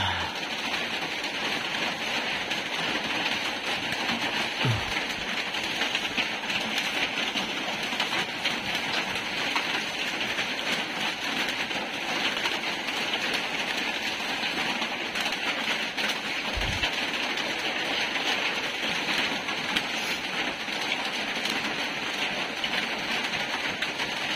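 Steady rain pours throughout, a dense continuous hiss at even loudness with no pauses, and a couple of brief low thumps break in along the way.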